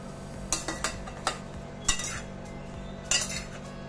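A spoon stirs curry with ginger in a metal pan, producing a series of close, irregular clinks and scrapes against the pan over a quiet background.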